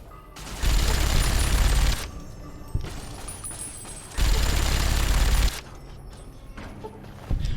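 Automatic gunfire in Fallout: New Vegas, three sustained loud bursts of rapid shots separated by quieter gaps with faint mechanical clatter.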